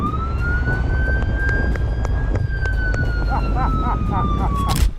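A police car siren wails on the road, a loud, steady rising and falling tone holding through the whole stretch over traffic noise, with a few rapid yelping chirps near the end.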